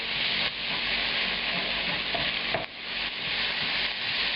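Onions cooking in oil for beef and cheese enchiladas give a loud, continuous close sizzle, with brief scraping strokes of a utensil along the pan bottom breaking through now and then.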